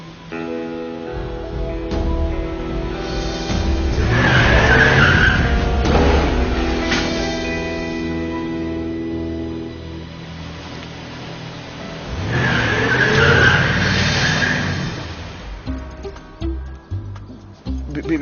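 A car reverses hard in a dramatic street scene, its engine surging loudly in two long bursts with squealing, skidding tires and quieter gaps between.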